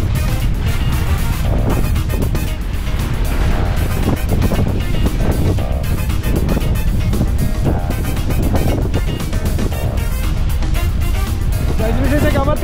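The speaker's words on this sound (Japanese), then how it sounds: "強風に煽られて" Strong, steady wind roars and buffets the microphone throughout a fishing outing at Ashika Island off Kurihama, a loud continuous rush with a voice speaking underneath.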